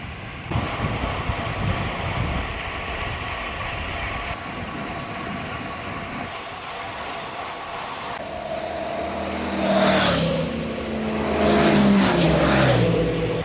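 Heavy road traffic rushes past a cyclist, starting as a constant loud roar of vehicles and then swelling as several nearby vehicles whoosh by one after another, with wind noise mixed in.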